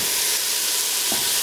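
Vegetables for split-pea soup sizzle steadily in a hot pan, a loud continuous hiss close by, with a brief clatter near the end.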